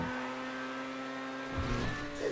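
A race car engine in GTA Online stunt racing, holding a steady high-pitched drone at high revs, with a brief surge near the end as it pushes on.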